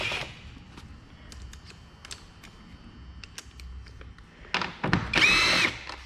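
On a 2017 Jeep Wrangler, a tool works the 8mm hose clamps with scattered small clicks and taps, then a short, louder whirring burst near the end, close by and without speech.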